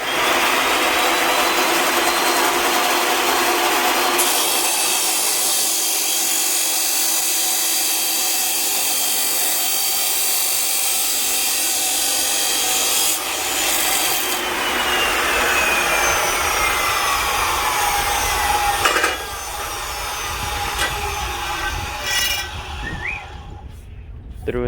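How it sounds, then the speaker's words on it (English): A chop saw cutting through a 12-foot DIY push pole for a jon boat, a loud sustained whining grind that runs for a long stretch, shifts in pitch midway and spins down at the end. "we're gonna chop saw it right there"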